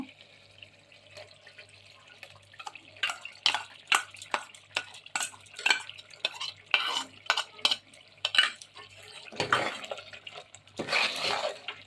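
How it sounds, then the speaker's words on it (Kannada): Ground coconut masala being stirred and fried in a pan for bhendi gosht ka saalan, a run of rhythmic scraping stirs over a low sizzle, with faint splashy bursts near the end. "अच्छे से मिक्स करके इसको ऐसे ही थोड़ी देर फ्राई करेंगे"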